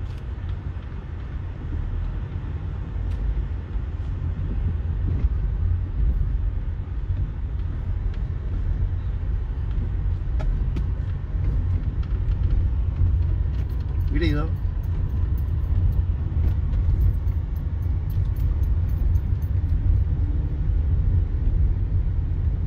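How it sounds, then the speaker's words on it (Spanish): Dense, steady road traffic rumbles continuously on a Sunday night in a town, with passing engines and a brief higher whine midway, heard from nearby. "Muchísimo, muchísimo tránsito, increíble para un día domingo"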